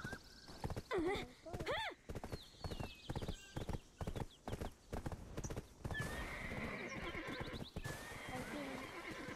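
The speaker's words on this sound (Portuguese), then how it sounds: "nós vamos parar o cavalo aqui pra ele ficar seguro" Horse hooves clip-clop in a steady rhythm and a horse neighs loudly in the Black Desert video game, with louder hoofbeats at first and a more constant din later, while people talk over it.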